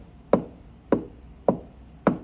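Fingers pressing into the black casing of a piano keyboard, making four evenly spaced dull knocks about half a second apart, close and fairly clear, each with a short decay.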